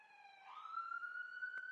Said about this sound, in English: I just let the siren go by as I adjust this too.